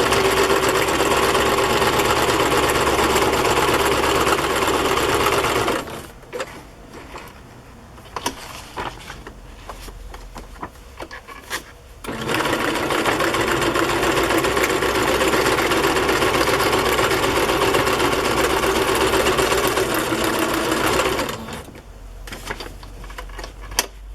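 A sewing machine stitches a large pocket onto handmade journal pages, running in two long loud bursts with a pause of quieter handling and clicks between them and a short start again at the end.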